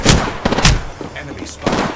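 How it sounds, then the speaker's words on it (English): Several loud, close gunshots ring out in the Apex Legends battle royale game, spaced in quick uneven bursts across the short stretch. "Getting shot at."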